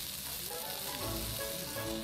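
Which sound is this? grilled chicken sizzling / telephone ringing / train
grilled chicken sizzling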